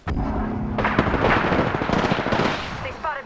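Rapid video game gunfire crackles in a dense, continuous stream of shots and impacts, loud and close, with a voice speaking over part of it.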